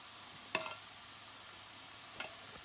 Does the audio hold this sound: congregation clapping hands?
no